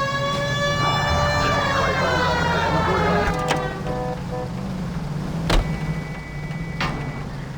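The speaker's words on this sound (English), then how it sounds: "Cole, turn on the siren and pull her over." A 1940s-style police car siren from L.A. Noire wails in rising and falling tones over a running car engine, loud and close, fading into engine noise with a few sharp clicks toward the end.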